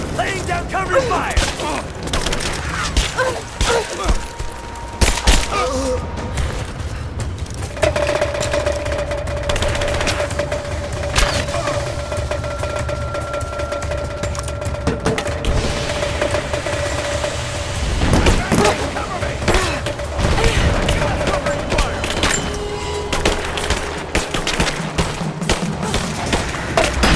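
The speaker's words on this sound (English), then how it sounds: "Laying down cover fire!" Bursts of cover gunfire ring out in a Rise of the Tomb Raider firefight, with repeated loud shots and booms continuing across the scene and voices shouting at times.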